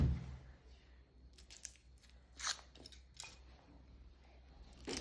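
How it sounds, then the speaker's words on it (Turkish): A Kinder Surprise chocolate egg is opened by hand, giving several brief crinkling and cracking bursts of foil and chocolate shell, close and fairly quiet. "Bakın açıyoruz yumurtayı."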